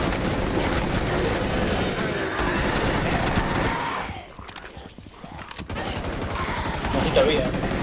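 Dense, continuous gunfire rattles through a Rainbow Six Siege Outbreak hospital mission, briefly easing before resuming, with voices talking alongside the shooting.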